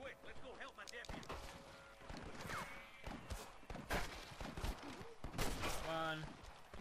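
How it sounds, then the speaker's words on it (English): Gunfire in the Western video game Red Dead Redemption: a busy fusillade of repeated shots and thuds over about seven seconds, mixed with game music, effects and voices talking throughout. "I can hear more gunshots."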